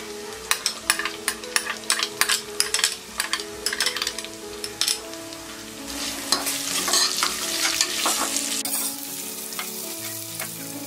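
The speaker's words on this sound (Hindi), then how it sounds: "अनियंस फ्राई हो गए हैं।" Onions frying in a pan after garlic for a green moong dal curry, a steady sizzle broken by repeated scraping stirs, loud and close with no voices.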